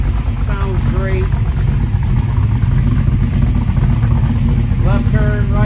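A 1978 Pontiac Trans Am engine idles with a steady, low, continuous rumble close by, while someone talks briefly over it near the start and end.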